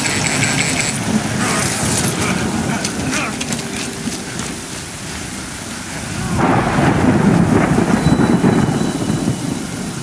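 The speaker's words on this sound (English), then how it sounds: "Good thing it was raining." Heavy, steady rain pours in the video game Death Stranding while rolling thunder rumbles underneath. The storm swells louder near the end and continues without pause.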